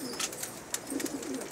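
Fancy banke pigeons kept on a rooftop loft give low, soft coos in short repeated bursts nearby, fairly quiet, with no people talking.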